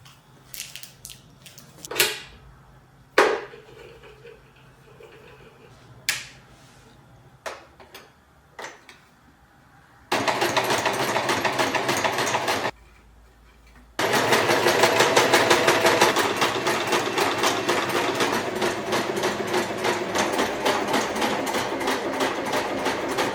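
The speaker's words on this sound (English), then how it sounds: "giving a fold to stitch the edge with the help of my sewing machine" A sewing machine runs a simple running stitch along a folded fabric edge in steady rapid bursts after a few scattered clicks and taps, pausing briefly before resuming its continuous mechanical whir.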